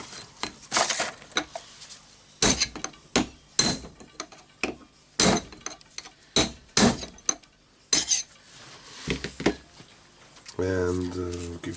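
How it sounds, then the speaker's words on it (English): A part being hammered out of a Hilti TE905-AVR breaker during disassembly: a string of sharp metallic strikes with short pauses, some clustered, and a brief voice near the end. "Okay, now I will try to hammer it out."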